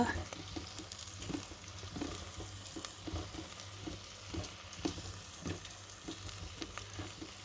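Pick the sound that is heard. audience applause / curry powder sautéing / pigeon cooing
curry powder sautéing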